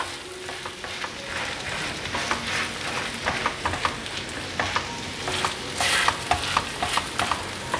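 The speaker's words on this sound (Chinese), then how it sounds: "先让它煎定型，半定型的状态" Taro and pumpkin cake pan-frying in oil gives a steady close sizzle, with repeated scraping and clacking from a spatula or chopsticks against the pan and no talk.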